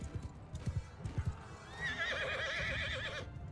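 A horse in Mount & Blade II: Bannerlord clops along with a few hoof beats, then lets out a loud, wavering whinny that lasts over a second before cutting off.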